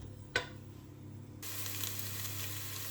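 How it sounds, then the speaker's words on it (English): Vegetables for a gluten-free vegan red pepper soup fry in a pan, a steady broadband sizzle that starts after a brief sharp tap and turns louder and denser partway through, close and alone without talk. "we're just going to fry these just for a couple of minutes"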